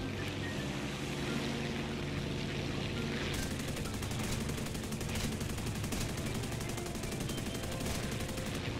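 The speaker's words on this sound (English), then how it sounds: "Let's see how the machine guns get on." Machine guns firing in bursts from a heavy biplane in War Thunder, a dense rattling stream of shots over a constant aircraft engine drone, loud and unbroken through most of the stretch.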